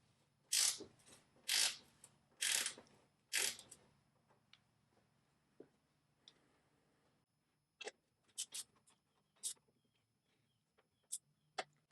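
A DURATECH stubby flex-head ratcheting wrench gives several quick ratcheting bursts as it loosens a fastener, followed by scattered sharp clicks. The sound is close and clear, against a quiet background.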